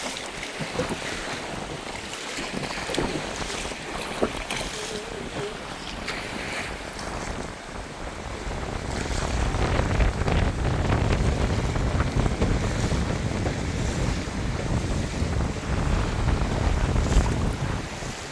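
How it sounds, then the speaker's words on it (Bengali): Stormy wind roaring across a river with waves slapping around a small boat, a constant heavy rush of wind and water that grows louder and rougher halfway through, with buffeting noise on the microphone. "মোটে আগিয়ে যেতেই পারছি না, এত ঝড় আর এত তুফান হচ্ছে।"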